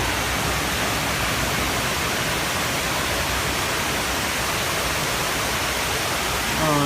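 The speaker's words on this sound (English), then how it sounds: "this water comes from here, and it falls down into the pool itself" Water pours steadily into the 9/11 memorial reflecting pool in New York City, a dense, continuous broadband rush that holds even and loud throughout, with no voices over it.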